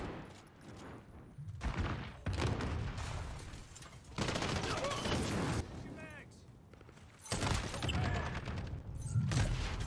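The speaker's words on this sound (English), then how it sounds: "That's a lot of bullets." Gunfire in Call of Duty Modern Warfare 2019 multiplayer, long bursts of rapid automatic shots in several loud volleys with short gaps, and talk over part of it.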